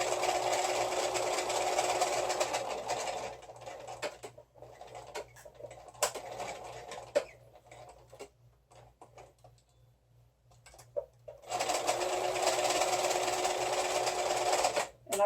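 A sewing machine stitches elastic onto a surgical-style mask with a filter pocket and nose wire, running in steady loud bursts, pausing in the middle for a stretch of quieter handling and clicks, then whirring again.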